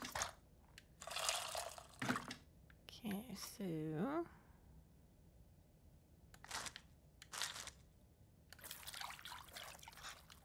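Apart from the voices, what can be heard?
mixing tamarind with water in a bowl, video game Venba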